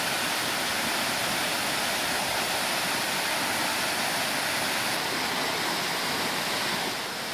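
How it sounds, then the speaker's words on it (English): Cooper Canyon Falls in the Los Angeles mountains running strongly, a dense, continuous roar of falling water close by, steady and loud throughout with no voices. "We made it to Cooper Canyon Falls, and it is flowing so strongly this year."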